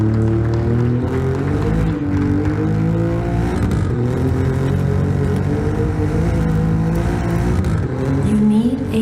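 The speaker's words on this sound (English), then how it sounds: "Ladies and gentlemen, the 2017 Alfa Romeo Giulia." A 2017 Alfa Romeo Giulia engine revs at an indoor unveiling event, a loud, sustained rumbling drone with rising and falling pitch alongside crowd noise.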